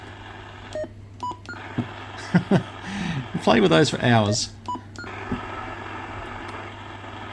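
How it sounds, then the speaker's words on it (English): Short electronic beeps from an SBE CB radio, several quick tones scattered across the clip, with someone speaking briefly in the middle over a low hum. "Always love the beeps on these things."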